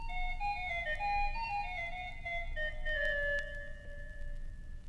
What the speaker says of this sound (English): To this combination, let us add the tierce, or reinforcement of the fifth harmonic.